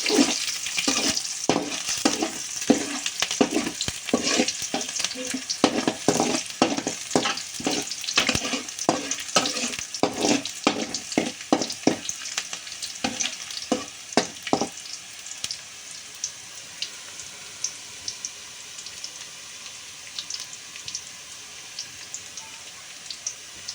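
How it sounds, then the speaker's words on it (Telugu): A ladle repeatedly scrapes and stirs ingredients sizzling in hot oil, with rhythmic knocks against the pan for about fifteen seconds before the stirring stops and a steady, softer sizzle carries on alone. "ఇప్పుడు ఒకసారి గరిటె కలుపుకుందాం."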